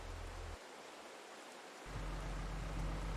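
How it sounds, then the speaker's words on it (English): Steady rain falling in the Farming Simulator 22 game world, a constant hiss of broadband noise with a low rumble that drops away briefly then returns louder; no voices. "here comes the rain"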